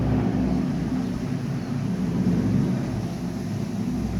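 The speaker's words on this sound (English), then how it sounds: "it sounds like a big helicopter" A large helicopter passes overhead outdoors, a steady loud low rumble and drone filling the whole stretch with no talk.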